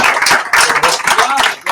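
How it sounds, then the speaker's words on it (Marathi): An audience at a farewell event claps loudly and close, a short burst of dense overlapping hand claps lasting under two seconds. "मोठ्या टाळ्या वाजवून आपल्याला"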